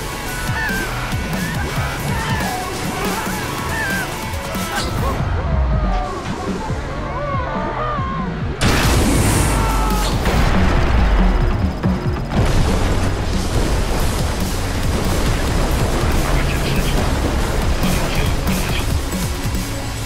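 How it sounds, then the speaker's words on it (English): Building demolition explosions in the ScreamRide video game, a run of heavy booms and bursts with crashing debris over about twenty seconds, loud and dense, mixed with game effects and a synthetic announcer voice. "Multiple explosions detected. Building demolished."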